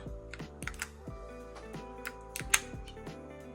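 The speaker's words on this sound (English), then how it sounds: "it will take me a bit of time to get used to the way this keyboard sounds" Someone types on a FIRSTBLOOD B67 Obsidian Black transparent mechanical RGB keyboard, producing crisp, close clacks in irregular quick bursts with a few sharper louder strikes, quiet overall and without speech.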